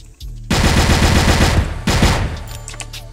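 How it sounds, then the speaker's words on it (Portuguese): Loud automatic gunfire in a tactical shooter video game, two sustained bursts of rapid shots close by, separated by a short gap, with no talking. "Tem um B, tomou tiro."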